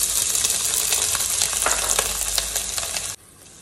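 Onions sizzle and fry in hot oil in a pan for a Shimla mirch chicken dish, a steady, loud, crackling hiss with bursts of popping that cuts off abruptly near the end.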